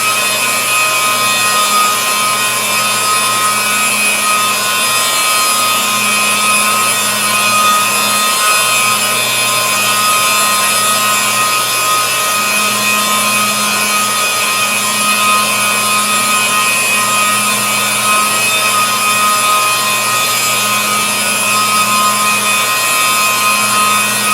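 A rotary buffer polisher running at 1500 RPM with a foam pad spreading polish on a car finish, giving a loud, steady motor whine with a constant hum that holds unbroken throughout.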